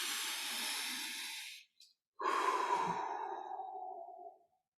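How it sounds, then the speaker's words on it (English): A deep breath during guided meditation: a long, close exhale, a brief pause, then a slow, full breath with a faint whistle that tapers off, no talking. "If we could just breathe in a breath of freedom."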